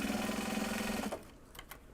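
A sewing machine stitches a project bag made from Japanese fabric, running with a steady, close mechanical hum for about a second before stopping, followed by a few faint clicks.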